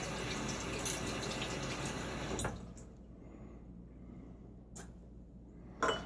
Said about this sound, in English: I'm going to go ahead and add water.